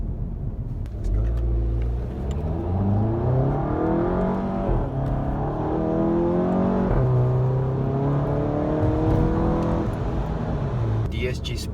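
A VW GTI MK7 in DSG sport mode accelerates hard, its engine revving up repeatedly as each gear is held longer, with a loud rising drone and brief dips at the shifts.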